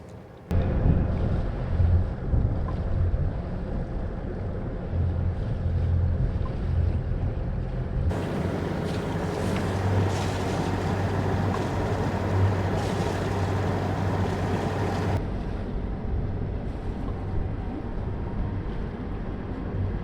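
A sailboat motors out of an anchorage toward the marina at Mahon, its engine a steady low drone under wind and water rush, with a louder gust of wind noise through the middle stretch.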